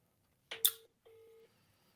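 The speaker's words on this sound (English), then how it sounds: "We're ringing someone in Birmingham" A telephone call ringing out on a radio phone-in, one short ring burst followed by a second steady tone, clear and alone in otherwise near silence.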